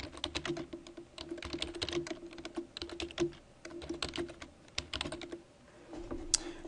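Rapid typing on a computer keyboard to enter text in a PowerPoint 2010 text box, with close, crisp keystrokes in quick irregular bursts and brief pauses, and no voice.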